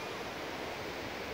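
Steady, dense roar of rushing water from a large waterfall in the Yellowstone area, continuous and close with no breaks.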